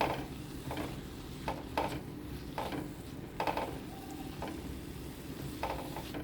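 Chicken pieces fry in a pan with a low, steady sizzle, broken at regular intervals by scraping strokes of stirring against the metal.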